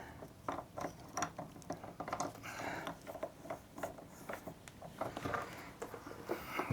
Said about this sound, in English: Put the one in place first. Start screwing it in.